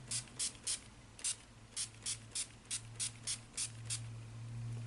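A mini cosmetic spray bottle releases a fine mist in about a dozen short, evenly spaced, hissing puffs, close by and alone over a low steady hum.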